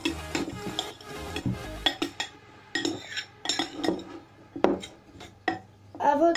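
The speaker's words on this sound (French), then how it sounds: "Et vous allez venir et bien touiller." Apple and carrot pieces stirred together in a bowl for homemade rabbit treats, giving a run of close, uneven scraping and clinking strokes with brief pauses between them.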